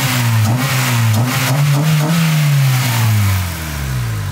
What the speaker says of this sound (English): I think my favorite thing about this is just the intake sound